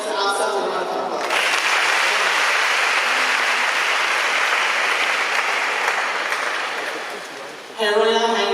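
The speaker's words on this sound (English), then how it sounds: "Let's give us ourselves a round of applause." An audience at a talk on menstrual hygiene and sexual abuse breaks into loud, sustained applause for about six seconds, tapering off before a voice starts speaking.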